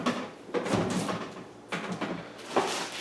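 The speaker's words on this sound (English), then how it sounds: "So let's go ahead and open the box up." Cardboard rustling and soft thumps as the shipping box of a Toro Power Vac leaf blower is opened, quiet and close, with a few scraping flaps and bumps and no talking.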